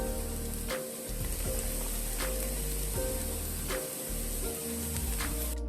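Onions, garlic and celery fry in a pan for a Bolognese sauce, giving a steady, close crackling sizzle with occasional louder spits and stirring scrapes throughout, no voices.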